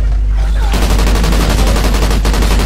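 Rapid gunfire in the video game Call of Duty: Ghosts, Chaos mode, a dense continuous barrage of shots that stays loud throughout with no pause.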